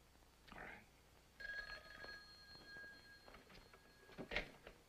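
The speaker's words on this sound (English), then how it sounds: "Dr. Markham, there's a long-distance phone call from Philadelphia." An old-fashioned telephone bell rings faintly in a quiet room for a long-distance call, a thin metallic ringing that starts partway in and continues with some clicks and small room noises around it.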